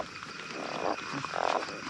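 Frogs croaking at night after fresh rain during frog catching: a couple of short, fairly close croaking bursts over a steady background of night insects and rain hiss, with no talking.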